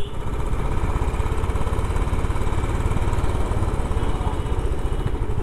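A motorcycle engine running on the Khandala Ghat road, a steady close rumbling drone with a fast pulsing throb throughout, no voices.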